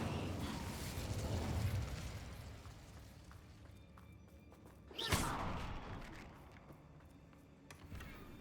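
An Incendio fire spell cast in the Hogwarts Legacy video game gives a sharp whooshing burst of flame midway, preceded by rumbling fiery combat noise, all fairly quiet overall.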